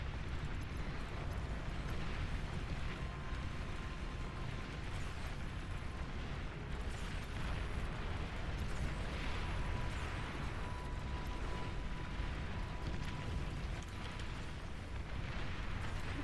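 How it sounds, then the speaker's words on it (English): A steady, rumbling roar of bombing-run explosions in the real-time strategy game Beyond All Reason, thick and continuous with faint higher pops layered over the low din, and no voices. "Great bombing run."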